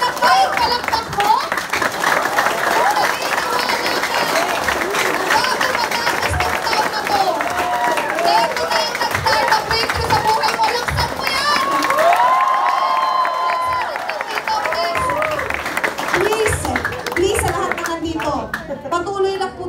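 A large crowd at an Alliance in Motion company gathering claps and cheers loudly and continuously, with shouts and whoops rising over the dense applause.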